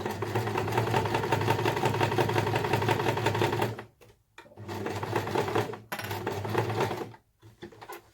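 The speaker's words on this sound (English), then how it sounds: "So we're going to just sew to the end." A sewing machine stitches a pouch lining in a steady, loud mechanical whir that runs for about four seconds, cuts out briefly, then resumes in two more short runs.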